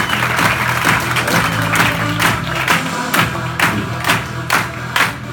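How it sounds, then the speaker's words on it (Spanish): Audience applause at a talk in Medellín, with crowd noise and claps swelling and fading in waves across the whole stretch, fairly loud and close, with no clear speech over it. "A mí me pareció que ese aplauso estuvo muy, muy, muy parco para Elio Laguna."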